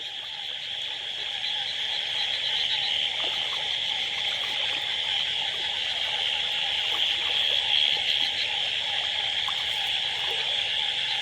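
A dense, steady chorus of frogs croaking through the night in a flooded paddy field, continuous and unbroken, with a soft trickle of water underneath.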